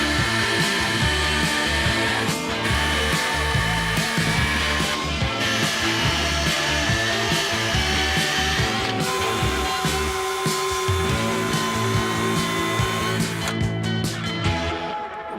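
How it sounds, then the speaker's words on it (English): A power drill bores holes into RV leveling jack snap pads, its motor whining loudly and continuously up close, with slight pitch shifts as the bit bites and releases. "So let's go drill some holes."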